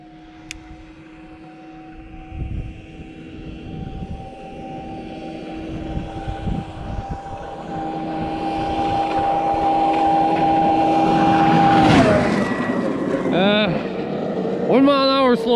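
A 2003 Arctic Cat Firecat F5 500cc snowmobile approaches at top speed, a steady high engine whine building from far to near, then its pitch drops sharply as it roars past, with a second loud pass near the end.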